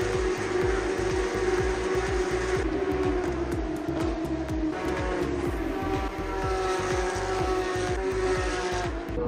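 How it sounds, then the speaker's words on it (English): Race car engines roar continuously at close range at the 2024 Shanghai F1 Grand Prix weekend, with rising and falling engine notes as cars speed past one after another. "Hearing the roar of the engines and seeing the cars whiz by is still exciting"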